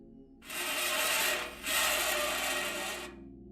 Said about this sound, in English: A scraping sound, coming from the back of the garage.